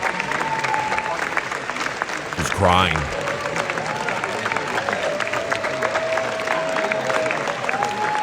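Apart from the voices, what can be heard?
standing ovation applause for The Smashing Machine in Venice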